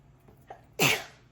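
A couple of faint inhaling catches build up to a single sharp, close sneeze that bursts out and fades quickly in a quiet room.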